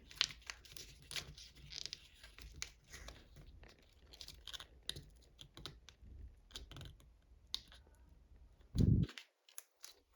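Paper being folded for an origami fighter jet, soft close crinkles and creases scattered across several seconds, with one sharper rustle near the end.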